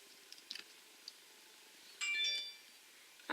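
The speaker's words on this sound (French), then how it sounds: "désolé pour le bruit du téléphone." Phone notification chime rings out briefly, a bright tonal jingle over faint room noise, followed by a second short chirp near the end; scattered light clicks occur before it.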